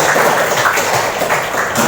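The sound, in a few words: applause for Fatimah Zahra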